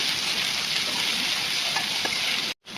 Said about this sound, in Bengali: এই যে আদা রসুন জিরা বাটাটা দিয়ে দিলাম, এখন সুন্দর করে একটু ভেজে নেব।